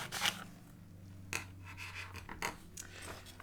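Scissors snip through a sheet of paper in a few short, crisp cuts with quiet rustling between them, close and fairly soft, with no talking.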